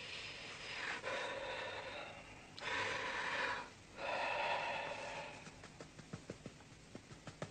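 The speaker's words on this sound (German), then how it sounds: "So, noch einmal tief atmen" Deep breaths during a medical examination, a few long loud inhales and exhales close to the listener, then a series of short rhythmic sniffs or puffs, no talk.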